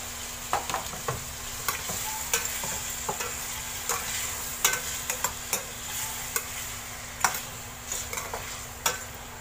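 Beef bones for kaldereta sizzle steadily in a hot pan while a utensil scrapes and stirs them, the clacks and scrapes landing at irregular intervals over the constant frying hiss.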